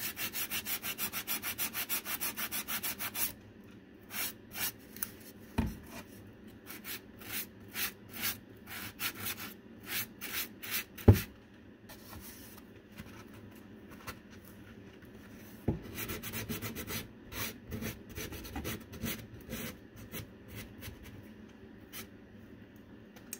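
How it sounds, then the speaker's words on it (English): Dollar Tree sanding sponge rubbing a wooden St. Patrick's Day craft piece, close and quiet, in rapid back-and-forth scrubbing bursts with brief pauses and a few sharp knocks. "I know I've talked before about these sanding sponges"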